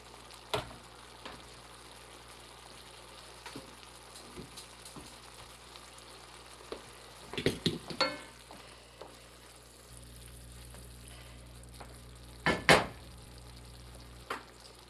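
Roasted eggplant slices go into a reduced, thickened tomato-style sauce in a frying pan, giving a steady low sizzle with a few louder bursts of frying and stirring; no one speaks.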